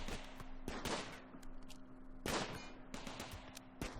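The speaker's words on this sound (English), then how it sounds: "Gunshots." Gunfire in the video game RimWorld, with several sharp, separate bursts of shots spread unevenly across a steady low in-game hum.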